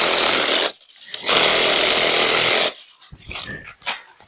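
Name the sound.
DeWalt Sawzall reciprocating saw cutting brush on a trail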